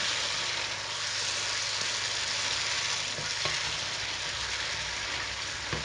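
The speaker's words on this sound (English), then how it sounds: "we're going to go in with a potato masher and just give them a squish" Tomatoes squished with a potato masher in a pan, steady close sizzling and frying throughout, with a few soft mashing thuds and stirring scrapes mixed in.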